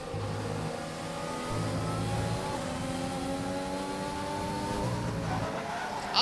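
Race car engines in a realistic-league sim racing round at Belgium, including a McLaren, rev and accelerate with rising and falling harmonic whines, shifting gears several times, steady and fairly loud with no talk.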